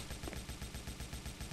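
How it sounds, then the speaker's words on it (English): Rapid, rhythmic video game gunfire from a Soviet-era strategy game crackles in a quick repeating burst, fairly faint and alone without talk. "why are they shooting me?"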